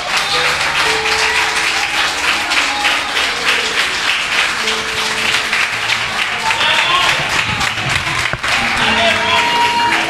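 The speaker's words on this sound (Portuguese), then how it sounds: "Aplauda a palavra do Senhor." Loud, sustained applause from a large church congregation fills the whole stretch, dense and steady with no pauses.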